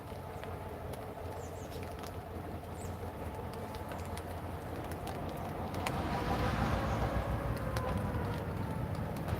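A train passes near a creek as a steady distant rumble that grows louder and rougher toward the end, with faint outdoor clatter and no talk.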